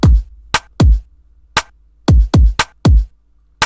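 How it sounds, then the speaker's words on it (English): A light, snappy percussion sample in a trendy pop drum pattern: eight sharp, dry hits with quick decays, spaced unevenly in a syncopated rhythm over near silence, close and loud. "It's a very light, snappy percussion sample"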